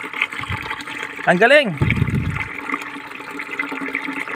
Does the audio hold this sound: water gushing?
yes